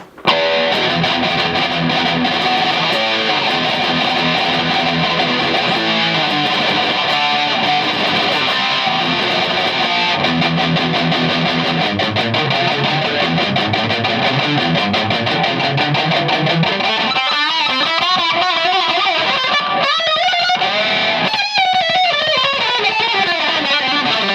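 Electric guitar through a BOSS MT-2 Metal Zone distortion pedal plays continuously, with chugging riffs giving way to sliding, bending notes toward the end, loud and saturated.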